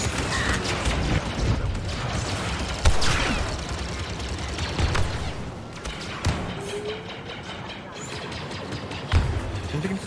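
Battlefront II game combat, with dense clattering gunfire, mechanical clanks and occasional thumping blasts in a continuous busy mix, loud and close.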